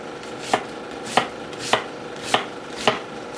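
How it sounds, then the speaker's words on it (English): A knife julienning vegetables on a cutting board, making five crisp, evenly spaced chops at a steady rhythm, close and clear with no talking. "then slice it through. Make you about 4 layers. But we're not dicing today. We were just julienning,"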